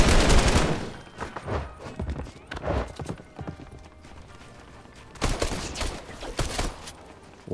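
Bursts of machine gun fire in a Fortnite match, rapid crackling volleys in several clusters, some loud and close, others quieter, with little talk.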